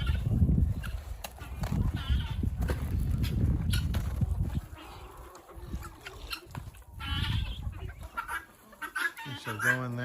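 Farmyard chickens and ducks cluck and chatter close by as they follow chicken feed during farm chores, with scattered footsteps and light knocks, and a person talks over the birds at times.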